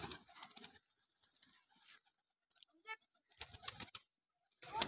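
Faint pigeon cooing and soft wing flutters in a quiet space, broken by a few short bursts of louder rustling.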